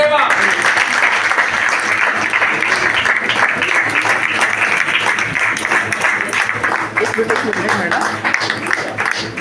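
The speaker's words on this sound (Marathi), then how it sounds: "टाळ्या चालू ठेवा." Crowd applause at a senior citizens' association felicitation ceremony in Bhuigaon: dense, sustained clapping from many hands that fills the whole stretch and tapers slightly toward the end.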